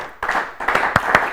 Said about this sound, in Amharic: ለሁለቱም በደንብ አድርጋችሁ አጨብጭቡላቸው።